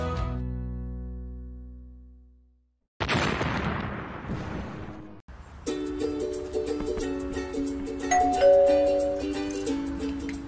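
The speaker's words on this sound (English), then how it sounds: "Remo Bell W, the ultimate video doorbell for your home." A Remo Bell W video doorbell chimes, a ringing two-tone tone that decays into silence, followed by a burst of noise and then a bright electronic melody with sustained notes.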